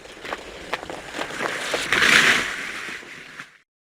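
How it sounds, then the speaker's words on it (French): A sled sliding over snow, played as an effect in a sound lotto game: a rough, scraping hiss with small crunchy bumps builds to a brighter swish in the middle, then fades and cuts off abruptly. "Un glissement de traîneau."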